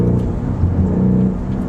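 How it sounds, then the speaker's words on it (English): Turbocharged engine of a 2024 BMW 230i xDrive revving steadily with a low, buzzy drone, close and fairly loud, running continuously without talk; no distinct blow-off hiss stands out. "you get a little blow-off sound"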